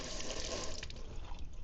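Tap water runs steadily over a hand being rinsed under a kitchen faucet, a continuous close splashing hiss that stays even throughout with no talking.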